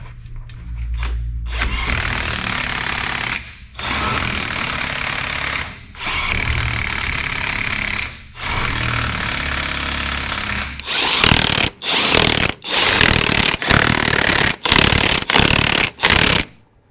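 Power tool driving a bolt into a motor mount, running in several long loud bursts with short pauses, then a rapid series of shorter choppy bursts near the end, close and without talk.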